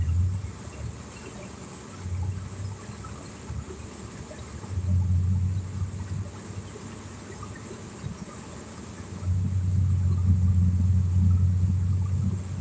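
A car engine rumbles while driving in traffic, a low steady drone that swells in several louder stretches as it accelerates, heard from inside the vehicle with no talk over it.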